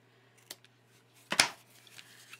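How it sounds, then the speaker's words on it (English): Scissors snip through paper while trimming a happy-mail craft, with a faint cut near the start followed by a sharper, louder snip close by and a few soft rustles after. "Trim that off with my scissor"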